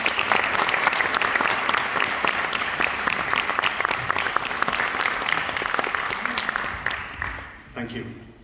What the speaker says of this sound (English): A big round of applause to the group of you.